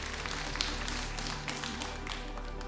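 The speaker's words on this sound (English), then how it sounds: "Applause and encouragement, please" Steady studio audience applause on a quiz show, a dense wash of many hands clapping at even loudness throughout the short stretch.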